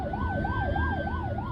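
An ambulance siren wails in a steady, fast up-and-down rhythm. It sounds loud and close and continues without a break, over low road rumble.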